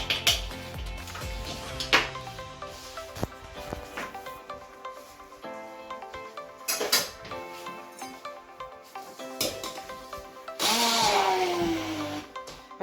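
Mixture with tajín beaten in a bowl, a utensil clattering and scraping against the sides in an uneven rhythm, fairly close, with brief louder knocks and a sustained stretch of scraping near the end.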